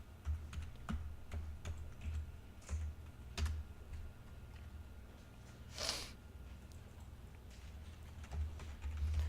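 Someone types code on a computer keyboard, producing soft, scattered keystroke clicks in irregular bursts against a quiet room background, with no talking.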